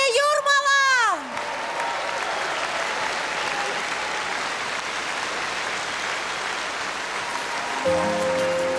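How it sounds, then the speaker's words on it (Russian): Audience applause at the New Wave 2014 song contest in Jurmala sustains as a dense, steady wash of many hands, starting after a sung vocal fades and continuing under a returning musical tone near the end. "Под ваши аплодисменты!"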